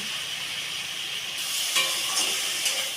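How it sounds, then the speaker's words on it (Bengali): Chopped vegetables sauté in a hot pan with oil, a steady broadband sizzle and hiss that swells midway, with occasional scrapes and clinks as they are stirred, close and moderately loud. "সবজিটা ভালোভাবে কষিয়ে নিয়েছি"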